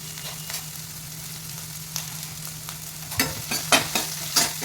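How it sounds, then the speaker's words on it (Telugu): Chopped onion, green chilies and curry leaves fry in hot oil in a pan, a steady close hiss with a low hum underneath, and a few louder stirring scrapes toward the end, with no talking. "ఉల్లిపాయ, పచ్చిమిరపకాయ, కరివేపాకు ఈ 3 కలిపేసేసి పాన్లో వేడిగా కాలిన ఆయిల్లో పెట్టి"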